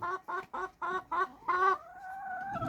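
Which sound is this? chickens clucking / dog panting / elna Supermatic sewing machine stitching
chickens clucking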